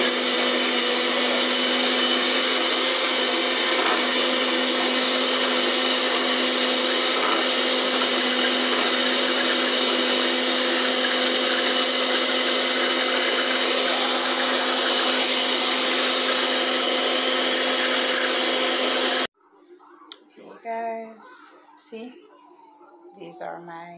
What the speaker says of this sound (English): my sugar, and my butter, creaming really nice